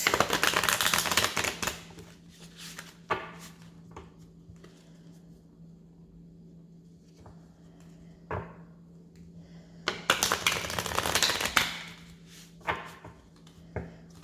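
A deck of tarot cards is shuffled in two loud riffling bursts, separated by quieter taps and soft slaps of the deck, with no talking.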